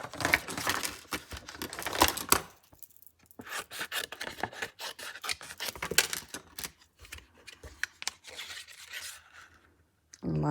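Paper for a birthday card being trimmed, heard as repeated close rasping and slicing strokes in uneven bursts, with short quiet gaps between passes.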